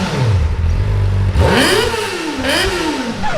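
A Kawasaki Ninja ZX4RR inline-four motorcycle engine revving: a loud idle rises into sharp throttle blips that climb and fall in rapid, high-pitched sweeps, heard close and alone.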